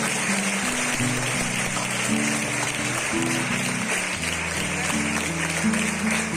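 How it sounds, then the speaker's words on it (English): A room full of people applauding for teachers, a continuous, loud bed of clapping mixed with a low, melodic tone underneath, lasting without a break. "So let's clap for them today."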